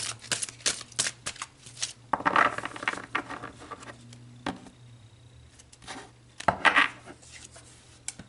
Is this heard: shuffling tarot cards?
yes